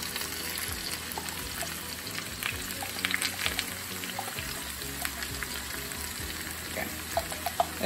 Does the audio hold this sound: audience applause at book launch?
no